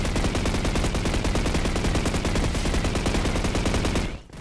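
Rapid, steady bursts of PKM machine gun fire in a video game, a loud continuous rattle of closely spaced shots that cuts off abruptly near the end.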